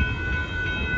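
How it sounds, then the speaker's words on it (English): Northbound Norfolk Southern mixed freight train rolling past a crossing at Dittmar Road in Austin, Texas, a steady loud rumble of wagons close by with a constant high whine over it. "There goes the northbound Norfolk Southern mixed break on by."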